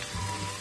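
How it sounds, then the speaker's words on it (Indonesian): Ground sambal terasi paste fries in hot oil, giving a steady close sizzle with a watery hiss and no voices. "setelah ini baru kita goreng lagi dengan minyak yang tadi"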